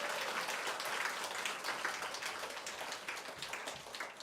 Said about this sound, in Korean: 우리 하나님께 정말 감사의 박수 한번 올려주시면 좋겠습니다.